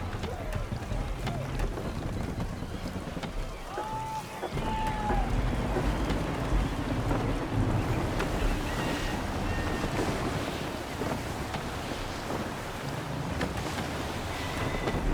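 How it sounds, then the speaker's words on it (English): Gusty wind at sea aboard a sailing ship in the Assassin's Creed III video game, a steady broad rush of wind and water that runs throughout with faint creaks and a brief tonal whistle early on. "Wind looks to be shifting. Stay alert, Connor. Gusty winds can be difficult to manage."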